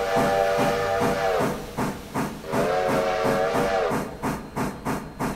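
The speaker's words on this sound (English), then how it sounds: "Hear the whistle blowing." A steam locomotive whistle in the video game Railroader sounds twice in long held blasts over rhythmic chuffing and hissing, then the chuffing continues alone, loud and steady.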